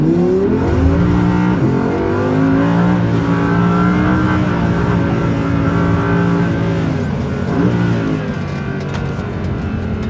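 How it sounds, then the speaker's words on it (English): An Audi R8 engine revs hard and continuously, pitch climbing and dropping through gear changes as it is pushed around a track, heard from inside. "The car is really pushing it to the limits and staying at the limits."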